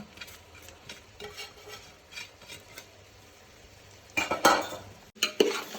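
Fluffy cooked rice for veg pulav stirred and tossed in a pan, scattered soft scrapes building to a louder clatter of spoon against metal near the end, close and without speech.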